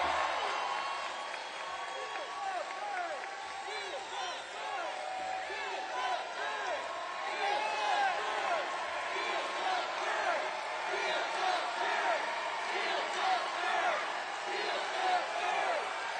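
Large rally crowd in Detroit cheering, whooping and clapping as Senator Bernie Sanders is welcomed, a sustained dense roar of many voices and applause that holds steady throughout, heard from within the crowd.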